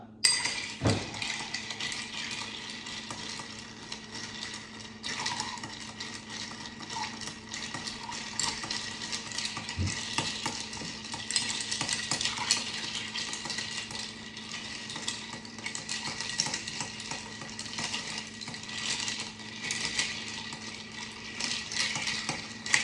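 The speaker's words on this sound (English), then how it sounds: "let's stir this bitch up" A Vieux Carré cocktail being stirred in a mixing glass, giving a steady, close-up wash of clinking and swirling that runs for the whole stretch with a few sharper knocks near the start.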